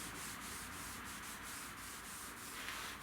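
Steady rubbing of a cloth working finish into the grain of a resurfaced oak tabletop, a continuous close, soft abrasive swishing with faint rhythmic strokes and no talking.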